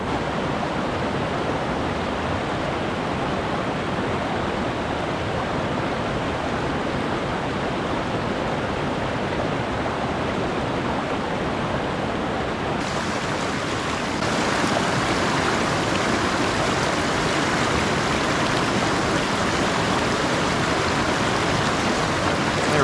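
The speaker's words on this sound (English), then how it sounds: "Just look at this little valley with a tiny little creek coming down over there." A tiny, crystal-clear mountain creek running down a small valley, a steady broadband rush of flowing water, close and even, swelling slightly louder partway through.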